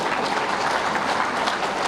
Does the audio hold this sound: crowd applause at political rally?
yes